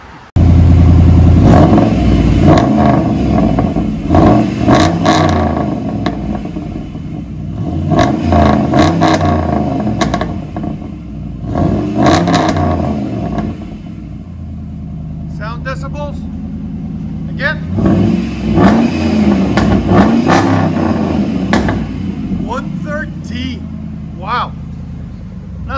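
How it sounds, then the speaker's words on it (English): A Dodge 4.7L V8 with a true dual exhaust and two Flow FX mufflers revs repeatedly in loud, deep bursts, then settles toward a rumbling idle between blips. It is close and heavy, and a person speaks over parts of it. "So it's true dualed with Flow FX, two Flow FX mufflers right there."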